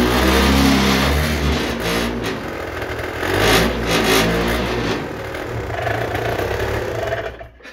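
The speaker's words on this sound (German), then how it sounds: "Ich habe Gas gegeben, er hat zuerst beschleunigt, also er hat zuerst hochgedreht" Peugeot JetForce scooter engine with a broken drive belt, revved on the throttle: a loud, close droning whine that rises and falls across the clip, cutting off abruptly at the end.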